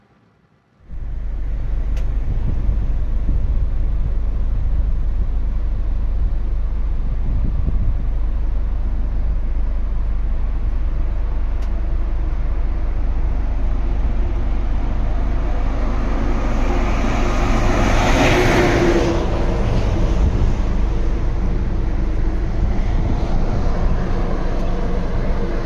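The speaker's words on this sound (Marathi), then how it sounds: "जास्त स्पीड न घेता 50-60, 50-60, 100 च्या स्पीडने आपल्या साईडनी मी गाडी चालवत आहे" A car driven at moderate speed on the Samruddhi expressway, a steady, loud broadband road and engine rumble that starts abruptly and holds constant for the whole stretch, with wind and tyre noise dominating and no talk.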